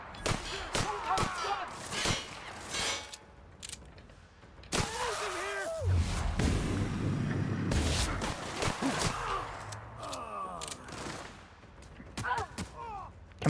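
Sharp gunshots in the video game The Outer Worlds, scattered single cracks and short bursts spread through the clip, heard close alongside someone talking.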